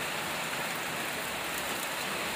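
Heavy rain pours down in a dense, even hiss that stays loud and unbroken throughout, with no voices.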